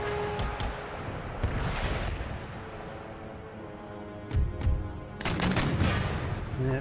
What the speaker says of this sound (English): So my artillery is going to pound theirs